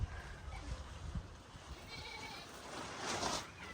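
Goats in a rural Nepal yard being fed grass, with a bleat rising out of a faint, steady outdoor background and some soft handling thumps early on.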